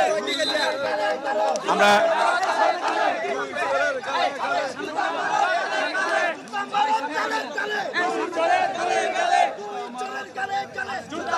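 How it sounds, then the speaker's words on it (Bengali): An angry crowd of protesters chants slogans in loud, dense, overlapping voices, with steady shouting and chatter near and throughout; a reporter speaks amid the din. "এখানে আপনি দেখছি যে বিক্ষুব্ধ জনতারা স্লোগান দিচ্ছে।"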